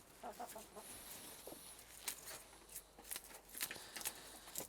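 Backyard chickens cluck and peck softly in a brief, scattered series of faint calls close by while torn kale is tossed to them on a snowy winter day.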